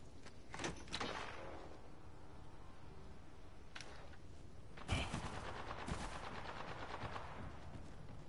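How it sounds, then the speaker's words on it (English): Someone opens fire in a faint, distant exchange of gunshots, with scattered single cracks and rapid bursts that sound like a machine gun, one louder volley standing out partway through. "Sound like someone's shooting at him."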